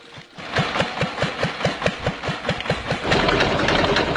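An old Ferguson tractor idles on a farm with a close, regular chugging beat that thickens into a louder, rougher roar near the end.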